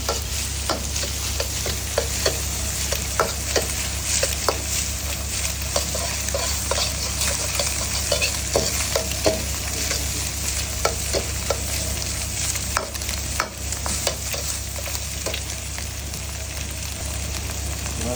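Rice frying in a pan with fish sauce, a dense continuous sizzle with frequent ticks and taps of a stirring utensil, close and even throughout.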